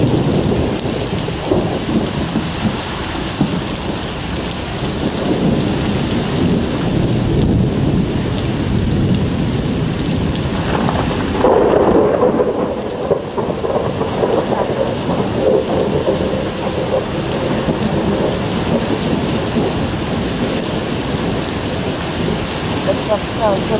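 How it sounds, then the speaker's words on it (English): Steady heavy rain pours throughout a Toronto storm while deep rolls of thunder rumble, with a louder crack and rumble near the middle. "Thunder."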